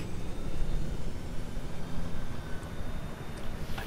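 A helicopter in the video game Firestorm gives a continuous, loud rotor-and-engine roar with a broad rushing hiss that holds steady throughout, no voices over it.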